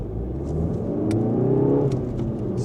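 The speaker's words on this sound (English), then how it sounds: "let's have a bit of fun and try this 0 to 60 when we can" A Mk7 VW Golf GTD diesel hatchback pulls hard from standstill toward 60 mph, its engine note rising steadily in pitch and loudness before easing off, heard close from inside the cabin.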